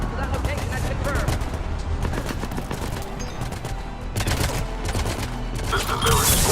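Rapid bursts of gunfire and combat blasts from the video game Mass Effect 3, during a Salarian squad battle, with dense, continuous shooting and scattered sharper volleys over a steady loud background, with a voice speaking at points.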